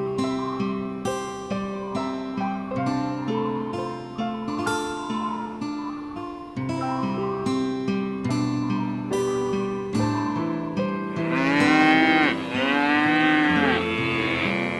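Cattle moo repeatedly in a desert grazing setting, long drawn-out lowing calls following one another in a steady rhythm, loud and close with no talk over them.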